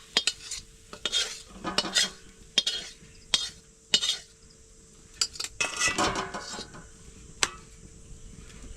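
A fried dish of ridge gourd and egg is scraped and lifted from a pan, giving sharp metallic spatula strokes and clinks in irregular bursts over a faint sizzle, close up and without speech.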